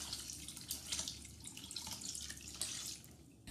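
Drinking water runs steadily from a tap over boiled grass jelly as it is rinsed, a close, continuous splashing trickle with no talk.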